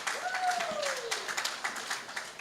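Indoor sports-awards audience applauding an Olympian taking the stage, a patter of claps with a voice speaking over it.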